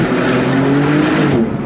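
Porsche sports car on slick tyres, engine droning loudly and steadily at high revs for under two seconds, close by, with no talk.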